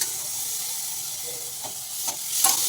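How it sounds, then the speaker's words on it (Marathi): Onion, green chilli and tomato sizzle and fry in a pan, giving a steady close hiss with a few soft scrapes from stirring near the end. "कांदा, हिरवी मिरची पण टाकून घ्यायची आणि असं हलवत राहायचं."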